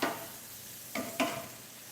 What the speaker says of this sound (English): And stir it just a bit.